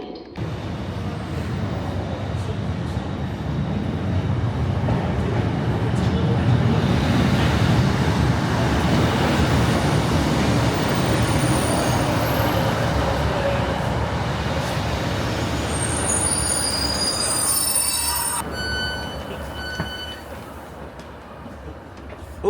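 Ex-ScotRail diesel unit 156496 running on a Tyne and Wear line, a steady loud rumble of engine and wheels on rail heard from on board throughout, with faint high squeals and tones near the end.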